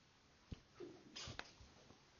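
A single short sneeze in a classroom during an algebra lesson, faint and somewhat distant, followed by soft breaths and small rustles.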